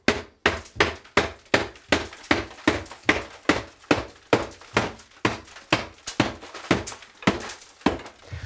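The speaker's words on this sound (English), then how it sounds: "We'll smash right up that grout line to the ceiling." A hammer smashes ceramic bathroom wall tile along a grout line during a budget renovation, landing about seventeen sharp, loud, evenly spaced blows, each ending in a brief cracking crunch.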